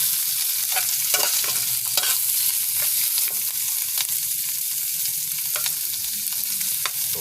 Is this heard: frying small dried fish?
yes